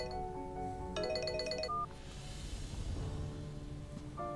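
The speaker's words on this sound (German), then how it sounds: "das ist ein dringender Telefonanruf" A telephone rings in the adventure game Memento Mori, a synthetic electronic ringtone with a repeating tonal trill sounding twice over a soft steady music background, moderately faint and without speech.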